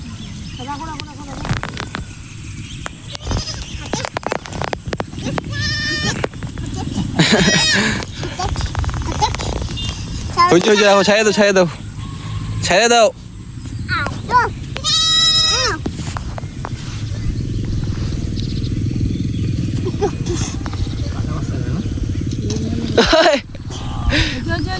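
Goat kid bleating in short repeated cries, mixed with a cat-like meowing quality, heard close by under frequent talking voices of a family outdoors.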